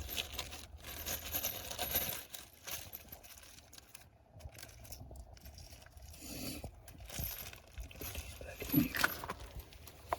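A metal bolt for colored hardware on an Acura RSX falls and clinks sharply once near the end, amid faint rustling and handling noise during the install.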